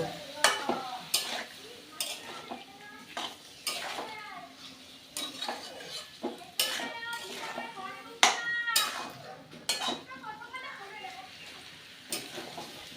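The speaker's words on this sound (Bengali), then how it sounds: "এবার আমি সব কিছু কষিয়ে নেব" Spices sautéing with kohlrabi and potato in a pan, a spatula repeatedly scraping and clanking against the metal in an uneven rhythm over a faint background sizzle, close up.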